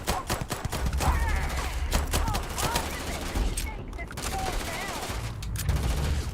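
Rapid gunfire bursts and impacts from the video game Starfield crackle in quick succession, dense and loud, with game voices and effects mixed in.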